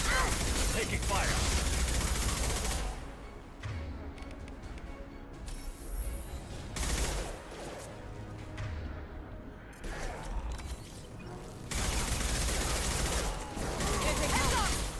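Sustained gunfire and combat noise from the video game Mass Effect 2, with bursts of automatic fire and mechanical clatter rising and falling over fifteen seconds, loud and dense with brief lulls between volleys.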